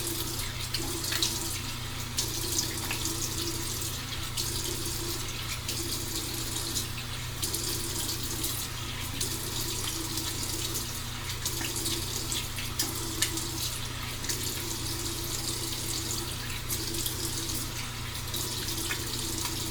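Tap water runs steadily and close at a sink as someone rinses off, a continuous broadband gush with slight splashy variation throughout.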